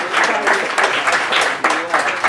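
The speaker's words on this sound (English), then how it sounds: "Can we just get one last round of applause for all of the musicians, actors, poets, ranters, and all of the other people out here tonight." A loud crowd at a theatre festival night applauds performers, with dense clapping swelling in waves and voices cheering over it.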